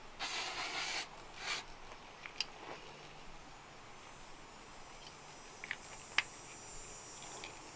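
Brake cleaner aerosol sprayed in two hissing bursts, one long and one short, at an off-grid pole barn build, followed by faint scattered clicks and taps in a quiet space.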